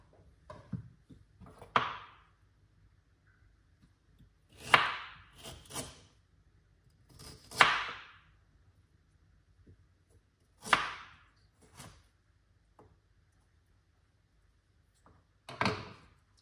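Knife slicing through half a lemon on a board, a handful of sharp, separated cuts and taps spaced a few seconds apart, close and fairly faint against a quiet background.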